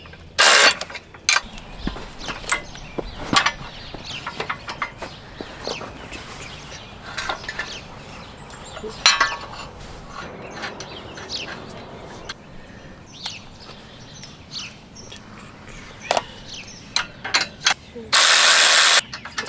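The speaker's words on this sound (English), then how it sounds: "Since I have an auto ratchet, I don't have to hand thread it on as far." Auto ratchet tightening a fitting on a farm harrow on a Kansas farm, a run of quick clicking and ratcheting bursts with mechanical clatter, a brief loud whir near the end.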